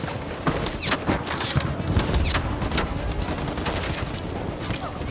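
Dense gunfire in the video game Detroit: Become Human, a continuous rattling fusillade of rapid shots with scattered louder bursts over about five seconds, steady and loud throughout.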